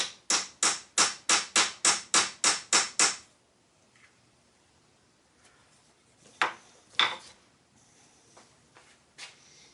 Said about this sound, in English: Same process on the rivets, and it's a little more difficult to hold the whole thing square.